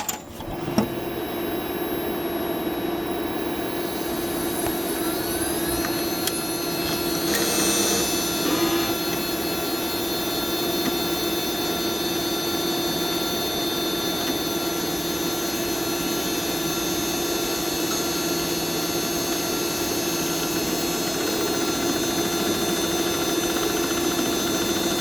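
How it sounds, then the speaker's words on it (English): A Toshiba Magnia 3030 server's SCSI hard drives spin up and seek, a steady close mechanical drone with high tonal whines and fan noise, marked by faint clicks and small shifts partway through, with no talking. "That's all the hard drives spun up and seeking"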